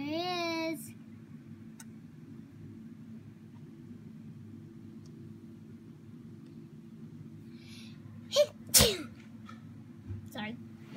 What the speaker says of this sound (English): Sorry, just sneezing.